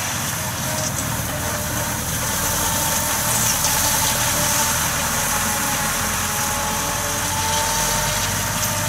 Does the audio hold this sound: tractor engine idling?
yes